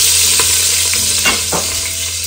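Fennel seeds hit a hot pan for a Sri Lankan eggplant milk curry, producing a loud, close, bright sizzle with a few spatula stirring strokes.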